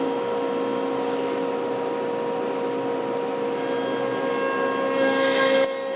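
A CNC router spindle cuts wood with a steady, loud mechanical whine and hum of stable tones that holds unbroken, then shifts briefly near the end.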